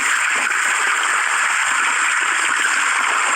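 A stream of cold, clear water runs in a forest wildlife sanctuary, giving a steady, close rushing and gurgling flow that fills the whole stretch without pause.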